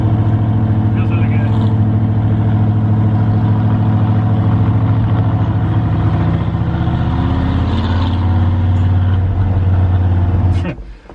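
A Ford F100 pickup drives on public roads, its engine running as a steady loud low drone throughout before dropping off at the end, with people talking over it inside the cab.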